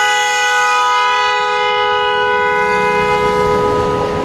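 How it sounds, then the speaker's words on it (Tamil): A modified TVS Star City motorcycle's horn blares in one continuous, loud, unbroken tone for the whole stretch, close up and alone. "இந்த ஹார்ன் இது கண்டினியூவாக அடிக்கிற போல் ஹார்ன் செட்டப் இது"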